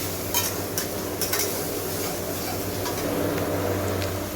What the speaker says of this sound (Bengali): টমেটো যতক্ষণ কাঁচা গন্ধ না যাবে ততক্ষণ আমি এটাকে ভেজে নেব।